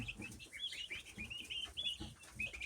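Young chicks sitting in a box, peeping in rapid high-pitched chirps that overlap almost continuously, close and fairly quiet with faint rustling underneath.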